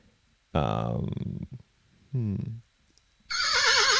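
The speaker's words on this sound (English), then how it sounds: "Horse." A horse neighs in three separate loud bursts: a long whinny, a shorter call, then a quavering, trembling whinny, each sounding close with quiet gaps between them.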